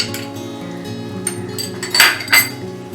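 A spoon scrapes and clinks against a pan as paneer butter masala with ground coriander, turmeric and garam masala is mixed, with a few sharper metallic knocks standing out over a steady background hum.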